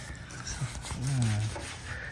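Steel wool rubbed over fresh welds on a steel off-road bumper for a Lexus GX470, a soft, steady rasping scrub close to the mic, with a slightly louder stroke in the middle.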